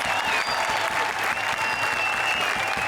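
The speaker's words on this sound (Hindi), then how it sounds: "जोरदार तालियां फॉर आवर 3 जजेस।" Studio audience applause for the three judges on a TV comedy show, a steady, full round of clapping that holds evenly throughout.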